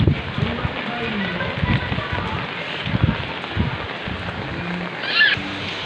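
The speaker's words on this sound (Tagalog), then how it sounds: "May pabagsak na pabugso-bugsong pag-ulan lamang" Gusty rain pours down during Typhoon Kristine near a creek, a steady broadband wash rising and falling in bursts with wind, under occasional low rumbles and brief voices.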